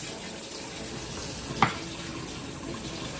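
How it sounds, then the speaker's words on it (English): A pepper is washed under a running kitchen tap, a steady close hiss of flowing water with a brief splash partway through, no talking. "Wash your pepper."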